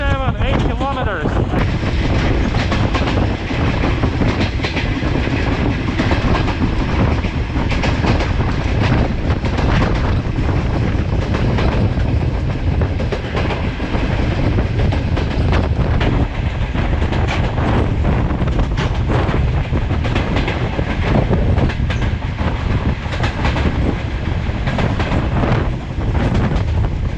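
A train runs on rails near the Kazakhstan border in Kyrgyzstan, a loud, unbroken rumble and rattle that lasts the whole time, heavily buffeted by wind across the microphone.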